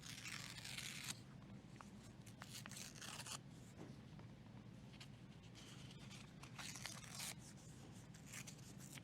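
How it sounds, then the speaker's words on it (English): Paper is torn by hand for a sunflower art craft, with a series of short ripping and rustling bursts separated by quieter handling, close and faint, without talking. "I love tearing paper. It's fun."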